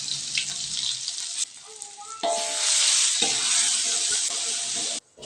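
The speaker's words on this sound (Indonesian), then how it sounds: "Dan ini tuh proses aku menumis bumbunya ya teman-teman." Ground spice paste for clear chicken soto with chicken feet sautéing in a pan: a steady, loud sizzle fills most of the stretch, briefly dipping then returning stronger, with no talk over it.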